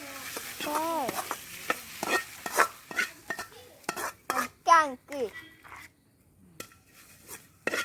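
Cassava (kolli) curry stirred in a pot, with scraping and clinking of a utensil against the metal and a light sizzle, interleaved with someone talking.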